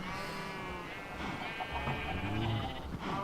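A cow in Minecraft's Sky Factory 2 modpack gives drawn-out, wavering moos that run almost continuously over busy game sounds, fairly close and steady in level.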